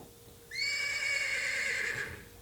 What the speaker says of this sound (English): Yes, it was a horse.